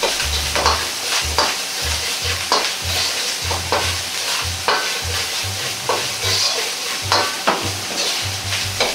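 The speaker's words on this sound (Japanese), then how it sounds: "しっかりと炒めます。" Steady sizzling of ginger and chili bean paste stir-fried in a wok, with repeated scraping strokes of a spatula at a quick, even rhythm, close and fairly loud, no talking.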